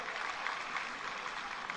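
An audience at an event claps steadily in a dense wash of applause, moderately distant and even in level throughout.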